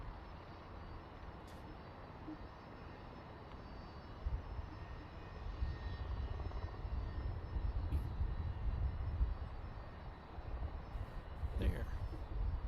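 A Cessna 172 light aircraft comes in at Boeing Field, its engine a faint distant drone that swells gradually over the second half, heard alone with no talk.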